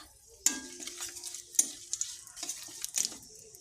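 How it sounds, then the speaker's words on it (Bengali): Bay leaf, nigella seeds and dried chillies drop into hot oil in a quiet kitchen, setting off sharp crackling bursts and spits that flare and fade with a few metallic clinks, close and fairly soft, no talking. "ফোড়নে দেব তেজপাতা কালো জিরে আর শুকনো লঙ্কা"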